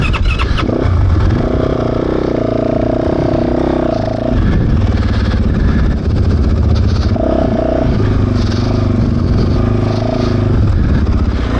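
A Fantic 450 Rally motorcycle engine revs on an enduro slope, a close, loud, continuous throttle note that rises and falls in surges throughout, with a rider speaking briefly over it.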